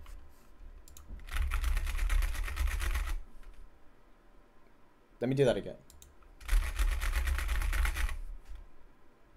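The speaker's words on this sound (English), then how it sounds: "with rake tapping, what we gotta do is just like a cheese grater, we just run our fingers along the keys really quick" Two bursts of rapid rake tapping, fingers dragged fast across keyboard keys in a dense clattering flurry, separated by a short spoken remark; near and fairly loud.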